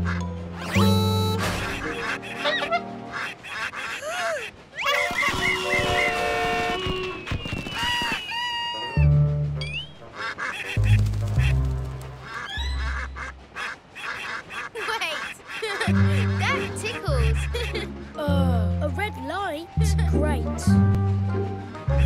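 Cartoon ducks quack repeatedly in a busy animated scene from a Thomas & Friends: All Engines Go! episode, mixed with music, sound effects and character voices throughout.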